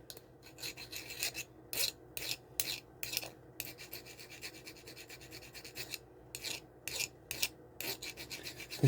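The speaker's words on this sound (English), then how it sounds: "Just rub paint off." Paint being rubbed off the head of a metal track pin on OO gauge model railway track, a close, rhythmic rasping scrape repeated in quick strokes with brief pauses, no talk.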